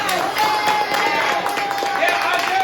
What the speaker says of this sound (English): clap for the black king